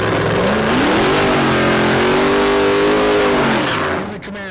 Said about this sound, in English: in the Camaro, finishing up his burnout